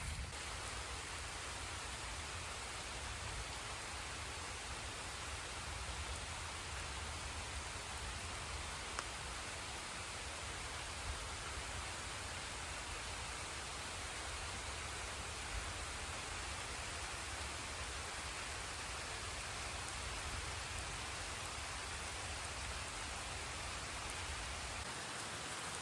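Steady light rain falls throughout a walk with a dog, a dense, even patter and hiss that stays constant and close with no voices over it.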